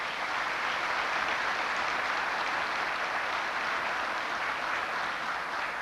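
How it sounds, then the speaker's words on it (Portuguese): Sustained applause from an audience at a Brazilian state treasury officials' meeting, a dense, steady roar of clapping lasting throughout with no pause or voices. "pedir uma salva de palmas para ele"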